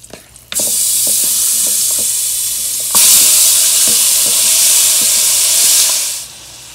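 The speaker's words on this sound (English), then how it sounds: "I'm gonna add our meat in." Raw goat meat for curry drops into a hot pot on a stove set to high, bursting into a loud, steady sizzle and hiss, with a second surge as more goes in and faint stirring knocks beneath, no talk.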